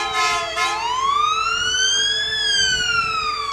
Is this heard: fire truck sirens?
yes